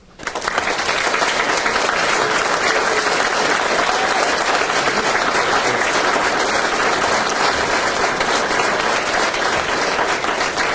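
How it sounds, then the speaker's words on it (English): Loud, sustained applause from a crowd at a fire academy graduation ceremony, clapping steadily and densely for the whole stretch. "Round of applause to you guys."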